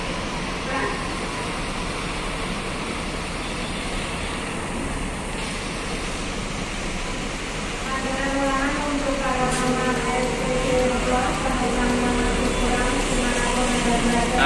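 A commuter train rumbles steadily as it departs toward Bogor, its continuous low roar building slightly, with faint voices over the station noise.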